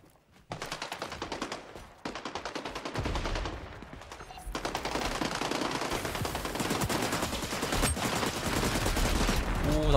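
Dense, continuous automatic gunfire in the shooter game XDefiant, loud and close with rapid overlapping shots that barely pause over ten seconds, with faint game noise underneath.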